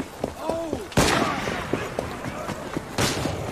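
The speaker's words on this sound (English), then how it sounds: "Fire a volley!" A volley of musket-style gunfire in Assassin's Creed Syndicate, heard as a couple of sharp, loud bursts amid crowd commotion and shouting voices.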